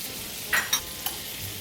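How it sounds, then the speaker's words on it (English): Butter, packed brown sugar and cinnamon cook in a pan for bananas Foster, a soft steady sizzle with two or three brief utensil scrapes close by. "All right, into the pan. 1 ounce of butter. Half a cup packed brown sugar, 1/4 teaspoon of cinnamon."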